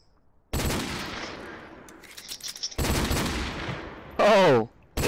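Gunfire in a Call of Duty: Modern Warfare Remastered online match, loud bursts of automatic fire broken by short gaps, with a brief voice cutting in near the end.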